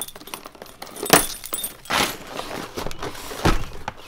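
Keys jangle and clink in several bursts, metallic rattles a few seconds apart, close and fairly quiet with no talking.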